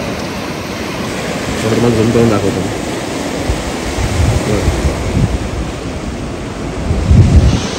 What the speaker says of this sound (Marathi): लाटा बघा या खतरनाक.